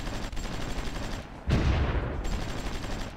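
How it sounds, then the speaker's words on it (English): Bombardment of special forces in the strategy game Supreme Ruler Ultimate: a continuous rumbling volley of gunfire and blasts that swells sharply partway through and stays loud. "they're bombarding our special forces, that's not nice"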